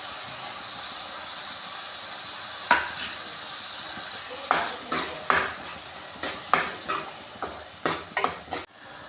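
A paste of mixed masala spices poured into hot oil for a lauki kofta curry, a soft hiss building into loud, repeated sizzling bursts as it is stirred, with occasional scrapes of a utensil against the pan.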